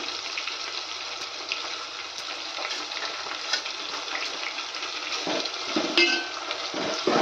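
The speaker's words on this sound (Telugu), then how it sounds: "ఇట్లా కరివేపాకు వేసుకుందామండి టేస్ట్ కోసం" Curry leaves hit hot oil in a pan for a meal maker curry, setting off a loud, steady sizzle and crackle that runs throughout, with a few sharper pops near the end.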